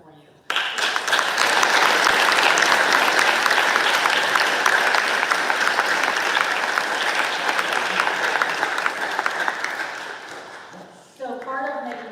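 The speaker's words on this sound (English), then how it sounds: "let's give a very warm round of applause to all the people in this room who are making this event happen for you" A roomful of people at a university event breaks into warm applause, a dense, loud wash of clapping that holds steady for several seconds before fading, then a voice starts speaking at the end.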